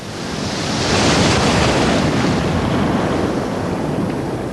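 Sea waves roll and wash in a continuous loud roar, with gusting wind buffeting the microphone throughout.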